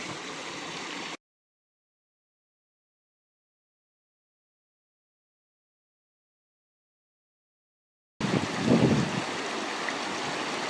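A mountain stream swollen by heavy overnight rain at a gold-prospecting spot near Wanlockhead rushes steadily, heard in two short stretches at the start and end with a long silent gap between, and no talking.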